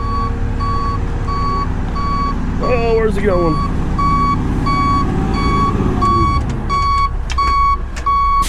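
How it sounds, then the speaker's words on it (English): Dirt trucks roll in at a pole barn pad build site, engines rumbling loudly while a steady series of reversing beeps repeats throughout; someone speaks briefly in the middle. "Got dirt trucks rolling in."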